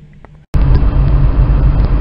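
A car drives along a road, recorded on a cheap Polaroid Sport action camera: after a brief dropout, a loud, dense rumble of engine and road noise fills the rest, steady and close with no talking.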